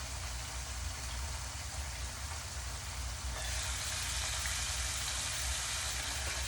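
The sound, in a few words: fish frying in a pan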